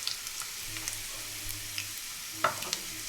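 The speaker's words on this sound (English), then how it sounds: "these two dry chilies have been added just for them to get a little fried." Two dry chilies sizzle in hot oil in a pan while daal is prepared, a steady close crackle broken by a few pops and a louder spatter near the end.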